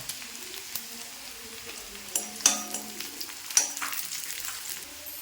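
Dried red chillies and small onions fry quietly in a pan, with a soft sizzle, a few sharp pops and light metallic clinks of stirring.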